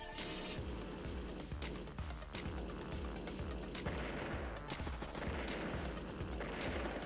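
Rapid gunfire from the turn-based strategy game Advance Wars: Days of Ruin, a dense, continuous barrage of synthetic shots with regular heavier bursts roughly every second, loud and unbroken, with no voices.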